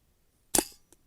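A Brocock Ranger XR .22 air rifle fires a single JSB pellet outdoors in light wind: one sharp, close crack with a brief decay, then a faint tick of the pellet striking its target about a third of a second later.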